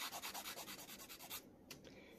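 An emery board lightly sanding a homemade silicone key chain: quick, close, rhythmic rubbing strokes for over a second, then they stop and only a couple of small handling taps follow.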